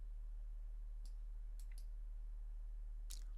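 Faint, sharp computer mouse clicks in an image editing program, a single one followed by a quick double click and one final click, over a low steady hum.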